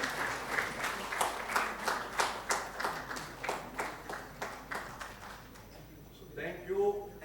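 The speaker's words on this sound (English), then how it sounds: "Give them a thunderous round of applause, friends." A crowd claps in a steady burst of applause that fades out, followed by a brief voice at the end.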